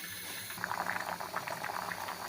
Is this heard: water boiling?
yes